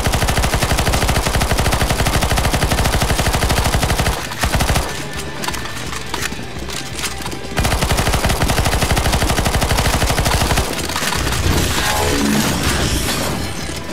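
Rapid, loud automatic gunfire rattles continuously in the CS:GO Zombies video game, broken by a short lull before the sustained shooting resumes.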